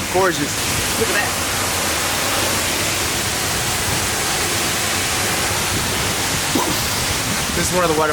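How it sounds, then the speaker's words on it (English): Latourell Falls, a tall waterfall in Oregon, roars as a loud, steady broadband rush of falling water, with brief talk faintly over it near the start and end. "This waterfall is gorgeous."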